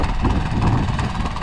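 A tractor engine runs loudly and steadily at close range in a muddy farm field while puddling. Its low, heavy rumble continues without a break and nobody speaks over it.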